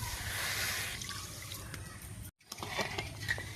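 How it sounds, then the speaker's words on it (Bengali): Water being poured onto sugar in a pot to make syrup, heard as close dripping and trickling liquid with light splashes, briefly cut off by a gap before resuming. "এবার দিয়ে দেব এই বাটি 2 বাটি চিনি, আর 1 বাটি জল।"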